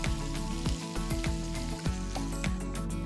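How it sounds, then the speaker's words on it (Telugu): Mustard seeds, chopped ginger and green chili sizzle in hot oil for a tempering, a loud close frying crackle with rapid seed pops and stirring scrapes throughout. "ఆవాలు చిటపటలాడిన తర్వాత ఇప్పుడు సన్నగా తరిగిన అల్లం, అలానే తరిగిన 1 పచ్చిమిరపకాయ వేసి ఒక్కసారి కలుపుకొని"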